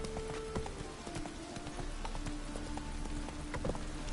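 Rhythmic hoofbeats of a horse galloping in The Witcher video game, a steady clip-clop pattern running throughout at moderate level, with light ambient patter beneath.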